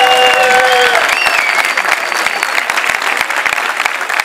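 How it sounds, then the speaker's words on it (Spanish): A crowd gives loud, dense applause to a cyclist at the Vuelta a Asturias bike race, with cheers and whistles at the start before the clapping thins slightly. "Un fuerte aplauso, Pelayo Sánchez"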